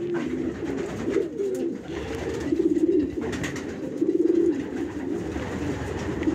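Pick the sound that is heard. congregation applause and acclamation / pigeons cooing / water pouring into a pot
pigeons cooing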